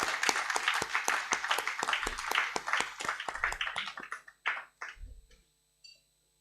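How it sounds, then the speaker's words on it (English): Applause from an audience at a press conference in a hotel ballroom, a few seconds of steady clapping that thins out into scattered, separate claps before fading to silence. "let us hear a big round of applause for our leadership team"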